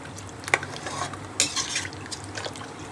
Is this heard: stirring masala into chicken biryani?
yes